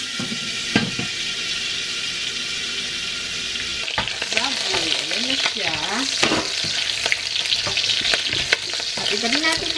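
Pancit noodles fry loudly in a hot pan, first as a steady sizzle, then with busy scraping and tossing strokes joining the crackle partway through.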